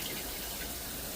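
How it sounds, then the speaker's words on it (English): Water pours and splashes into an electric pressure canner packed with jars of diced tomatoes, a steady broadband rush that runs on without pause and without voices. "Water went everywhere."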